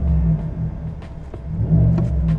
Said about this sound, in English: Let's check it out in off-road, see if it stays in the loud exhaust mode.